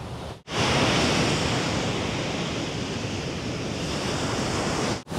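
Strong sea waves crash steadily on the shore of Indira Beach in Botolan, Zambales, a loud continuous roaring wash with wind buffeting the microphone and no voices.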